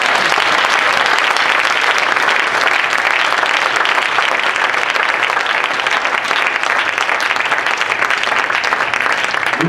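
A church congregation breaks into loud, sustained applause, a dense wall of many hands clapping steadily from start to finish.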